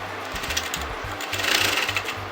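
A sewing machine stitches a marking line on fabric for a pin tuck top, a quick run of rhythmic needle thumps, close and moderately loud, with no talking.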